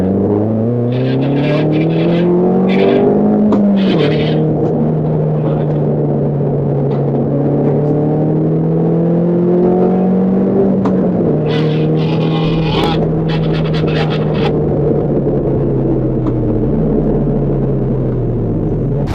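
A Honda Civic Type R FL5 driven hard around a twisty track: the engine drones loudly and steadily, with repeated shifts and revs rising and falling between corners, alongside a constant rumble of road and wind.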